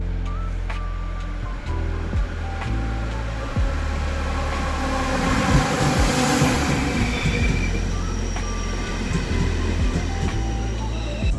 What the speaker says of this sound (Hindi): फाइनली मेरी ये लास्ट ट्रेन भी आ चुकी है